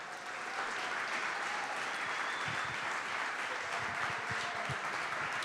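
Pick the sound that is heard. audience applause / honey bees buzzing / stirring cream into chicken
audience applause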